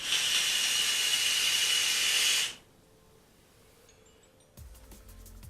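A loud, steady vapor hiss from an Asmodus Amighty vape kit, lasting a couple of seconds and then cutting off abruptly, followed by quiet background and a faint click.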